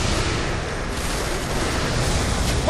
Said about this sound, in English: What's this? Explosions!